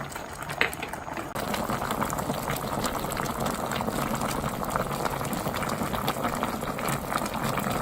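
Galbi-jjim braise of beef short ribs with carrots and whole jujubes boils steadily in a pot, a dense, continuous bubbling that holds at an even level throughout with no talk.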